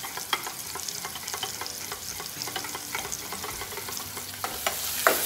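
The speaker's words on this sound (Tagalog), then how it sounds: "kailangan mo lang lutuin ng maayos yung capsicum" Capsicum cooking in a pan with yogurt-based sauce, a continuous crackling sizzle with scattered pops and spatters, close and steady, briefly louder at the end, no voices.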